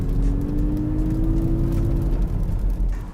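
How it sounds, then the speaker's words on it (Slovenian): A synthetic petrol-engine roar plays inside the cabin of a 2020 Mazda MX-30 electric car, a steady low rumble with a rising whine as it accelerates, close and continuous with no talk. "vse to umetno rohnenje slišite samo v kabini"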